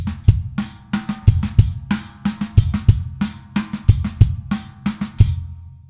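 Drum kit groove where the in-between ghost notes are struck nearly as hard as the main snare hits, giving a busy run of loud, evenly accented strokes over kick and cymbal, played alone at a steady rhythm.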